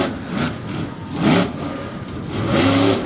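A monster truck engine revs hard during a freestyle run at an Indy arena, rising and falling in loud surges, droning and roaring with no voices over it.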